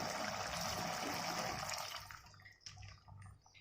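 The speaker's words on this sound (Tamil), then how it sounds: "இப்போது குழம்புக்கு தேவையான அளவு தண்ணியை ஊற்றிக்கலாம்." Water pours into a pot of chicken curry (chicken kulambu), a loud continuous gushing stream for about two seconds that then tapers into a few splashes and drips.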